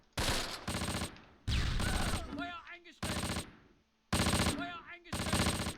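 Bursts of automatic gunfire from the Close Combat World War II video game arrive in loud, separated clusters, with whistling mortar or shell sounds falling between some of the bursts.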